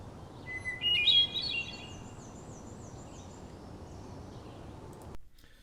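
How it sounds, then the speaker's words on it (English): Forest birdsong from an unattended woodland recorder, with a brief fluting phrase like a hermit thrush near the start, then a thin high trill fading over quiet ambient hiss. "This is a recorder that was left in the woods, and we can hear birds."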